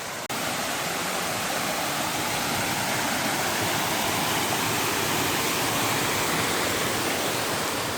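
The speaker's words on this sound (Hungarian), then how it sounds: "ó, nézd meg, vízesés!" A waterfall rushes along a mountain hiking trail to the Jenner, making a loud, steady roar of falling water. The roar begins abruptly and continues without break, with no voices.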